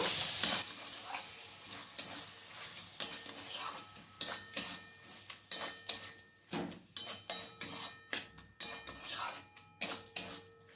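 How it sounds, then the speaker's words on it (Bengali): Chana dal being stirred into frying spices in oil in a pan, with a spoon scraping and clinking against the metal in a steady rhythm over a soft sizzle, close, no talk. "এরপর বুটের ডালটাকে মশলার সাথে ভালো করে মিশিয়ে নেব।"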